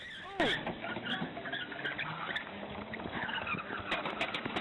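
A car speeds off with tires skidding and squealing as it drags a police officer in Dolton, a steady busy roar of engine and tire noise running throughout under a sharp squeal near the start.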